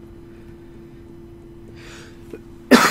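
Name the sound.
cough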